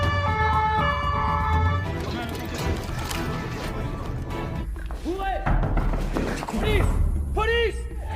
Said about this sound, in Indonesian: tiba-tiba terdengar suara sirine polisi